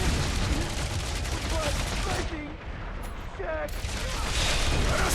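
Rapid gunfire during a boss fight on Knowhere in Marvel's Guardians of the Galaxy, heard as a loud, sustained fusillade of shots that dips briefly and then returns, mixed with game effects and a voice faintly present.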